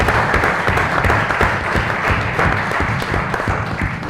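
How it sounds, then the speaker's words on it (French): An audience applauds a quiz winner after the first round, dense continuous clapping close and loud throughout with little else beneath it. "Je vous prie de l'applaudir pour 4 points"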